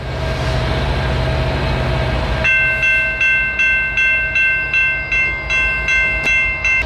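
A train rolls past at Horseshoe Curve in wintery Pennsylvania, a steady loud rumble giving way to a rhythmic clatter of wheels over rail joints, with a sustained tonal whine riding above.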